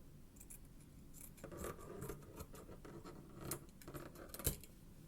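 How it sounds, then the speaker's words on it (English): Scissors cutting a small piece of material for a crochet project, heard as close, quiet snips and scratchy rubbing in irregular bursts, with no talking. "the next thing that I want to do is to make, just cut a little piece."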